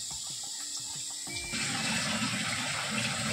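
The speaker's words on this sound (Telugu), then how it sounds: "ఇట్లా నీళ్ళు పట్టేసి శుభ్రంగా ఈ ప్లేస్ అంతా కడుక్కోవాలి ఫస్ట్" Water is poured over kitchen chimney filter parts, first light trickling and dripping, then a fuller steady rush of running water splashing onto the metal.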